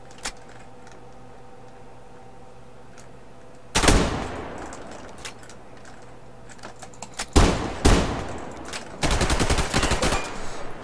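Survarium video game gunfire from a shotgun and rifle: a single loud shot, then bursts of rapid automatic fire later on, sharp and close against a quiet background hum.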